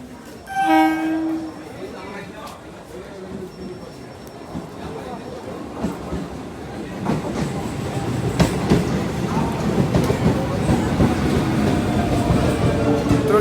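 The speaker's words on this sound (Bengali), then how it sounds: "দেড় ঘন্টা ওয়েট করার পর এখন ট্রেন আসছে" A train horn sounds near the start, then a deep rumbling, clattering train grows steadily louder as it pulls into a station close by.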